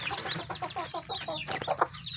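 Kukuak Balenggek chickens cluck and peep in a quick run of short, close calls, a small brood in a coop, fairly faint with a soft background hum.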